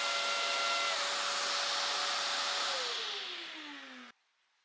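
A Festool CTM MIDI dust extractor runs on maximum with a steady, loud, airy roar. Its motor tone sinks as it spools down, and then it cuts off abruptly into silence.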